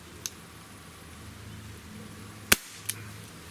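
A Walther CP99 NightHawk air pistol fires one sharp, close, loud shot, with a couple of small mechanical clicks before and just after it.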